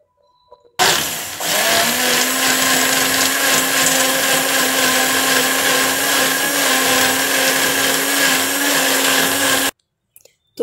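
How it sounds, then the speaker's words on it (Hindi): A loud hand blender whirs continuously for about nine seconds through cooked tuver lentils, starting abruptly and cutting off sharply, with a steady motor drone. "इसको ये दाल जो है उसको मैं ब्लेंडर से ब्लेंड कर दूँगी।"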